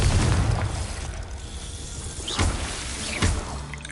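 A Confringo blasting spell goes off in Hogwarts Legacy, a loud fiery burst followed by two sharper impact booms near the end, with no talking.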